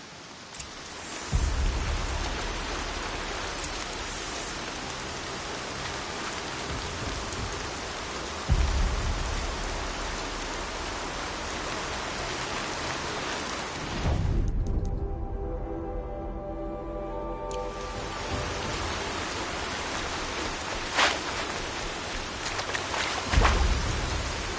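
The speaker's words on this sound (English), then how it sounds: "Rain." Steady rain falls in Horizon Zero Dawn, a dense hiss that continues throughout, with a few soft thumps and a brief lull partway through.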